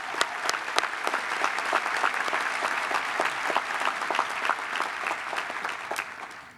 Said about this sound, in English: Could we please give our professors a round of applause?